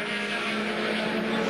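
Holden VL Commodore V8 race cars at Bathurst in 1990, heading onto Mountain Straight, give a steady, loud engine roar with no clear break across the short stretch.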